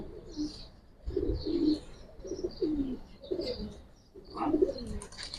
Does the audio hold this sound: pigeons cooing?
yes